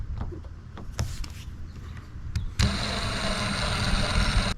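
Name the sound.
power driver driving a screw on low torque into kayak mount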